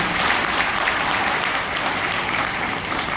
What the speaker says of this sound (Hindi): एक जोरदार तालियां होनी चाहिए नारे के लिए।